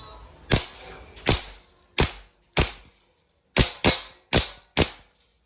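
A WE M4 RIS v3 gas blowback airsoft rifle fires eight sharp, loud semi-auto shots in uneven spacing, each a crisp snapping crack with quick decay, clearly heard alone.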